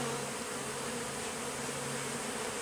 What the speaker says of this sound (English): Bees are flying, you can hear them.